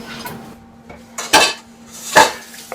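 Copper pans and metal cookware clatter in a kitchen, with two loud clanks and a few lighter knocks and scrapes spread unevenly over a quiet background; no one speaks.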